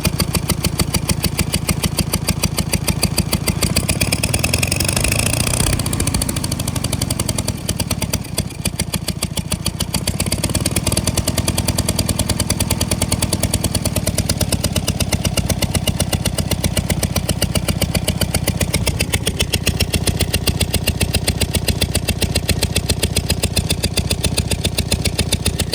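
A Farmall A Cultivision tractor engine running rough on one cylinder, a steady loud chugging idle that swells briefly as it is revved, then settles back.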